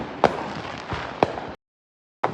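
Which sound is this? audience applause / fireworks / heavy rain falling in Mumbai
fireworks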